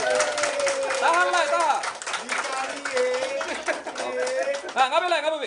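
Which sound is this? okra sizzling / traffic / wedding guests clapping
wedding guests clapping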